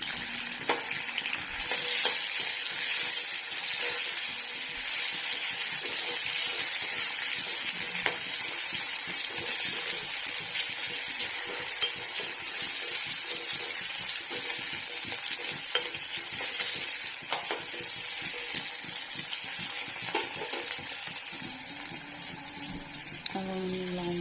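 Onions and tomatoes sizzle steadily in a hot pan, with a spoon stirring and scraping through them in repeated strokes, close and continuous.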